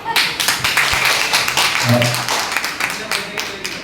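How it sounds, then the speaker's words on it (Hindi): An audience at a Hindi Day celebration claps in a lively burst of sharp, uneven hand strikes that rise and fall across a few seconds, with talking heard over and between the claps. "तालियां तो बचपन वाली हो रही है, बचपन वाली होनी चाहिए।"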